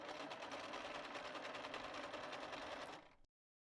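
A sewing machine stitches a T-shirt side seam, a steady close whirring run for about three seconds that then stops abruptly, with no talking.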